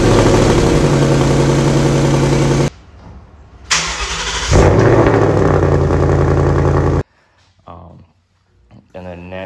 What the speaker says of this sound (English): I'll clip a video of the exhaust and why I got the active valve